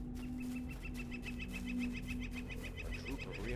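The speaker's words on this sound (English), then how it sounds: "That's the same bird sound effect in Lord of the Rings Online." Repeating bird chirps from the online fantasy game Dungeons & Dragons Online, a steady series of short high calls under a constant low game ambience and hum.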